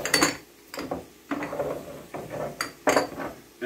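A pepper mill grinding coarse black pepper in a home kitchen, heard as several separate bursts of crunchy, ratcheting grinding with brief pauses between the twists, close and fairly loud with no talking.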